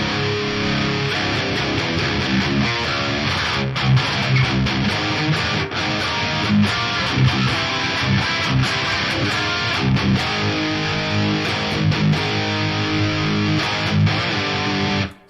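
An electric guitar through a Fractal FAS Stealth amp model with a slight preamp boost and a cab impulse response, played as a continuous distorted, chord-heavy riff with rhythmic accents, loud and unbroken until it cuts off at the end.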